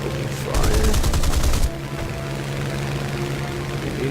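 Aircraft machine gun fire in the War Thunder video game: a loud, rapid burst of gunfire lasting about a second over a steady droning engine hum.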